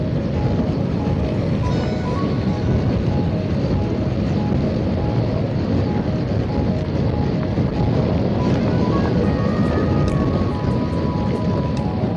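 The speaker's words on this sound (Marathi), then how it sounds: "आणि खूप जोराचा वारा आहे मित्रांनो इकडे" Strong wind during heavy rain roars and buffets the microphone continuously, a dense, loud rumbling rush with no pauses or voices.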